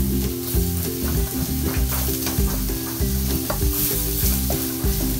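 Onion goes into hot olive oil with ginger and garlic while spicy blue crabs are being cooked, sizzling loudly and continuously with stirring scrapes, under a rhythmic tonal background of music.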